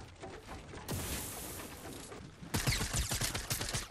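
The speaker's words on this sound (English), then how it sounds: "He's shooting me still." An enemy player's gunfire in Fortnite Battle Royale, sharp repeated shots arriving in clusters, with a dense rapid burst late on, loud and close over game noise.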